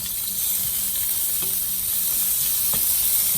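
Asparagus sizzles in a hot pan used earlier for a New York strip steak, giving a steady close hiss with a few soft clicks of the spears being moved, and no talk over it.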